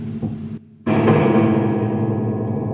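A metallic, boingy crash rings out as the springs of a Genz Benz Diablo amplifier's reverb tank are struck and dip, then sustains with a shimmering, springy reverberation that slowly fades.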